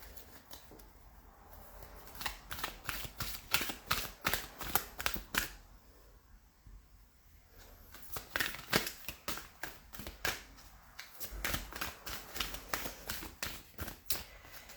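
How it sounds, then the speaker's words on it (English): Cards from a Wisdom of the Hidden Realms oracle deck being shuffled and pulled, rapid papery riffles and flicks in close bursts with a short quiet gap midway, no voices. "I'm going to pull one more card from the Wisdom of the Hidden Realms"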